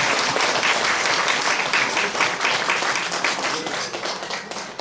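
A crowd at an indoor church ceremony breaks into sustained, loud applause, a dense wash of clapping that holds steady and fades slightly toward the end as a dignitary is welcomed to the stage.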